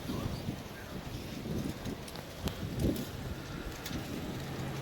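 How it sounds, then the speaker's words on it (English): Cold, gusty wind buffeting a microphone outdoors at an RV campsite, a steady low rumble with occasional stronger puffs throughout. "Okay, guys, it's gonna be windy, so I'm sorry."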